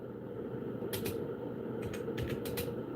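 A few clusters of keystrokes typed on a keyboard, light and quick clicks in small bursts over a steady background hum.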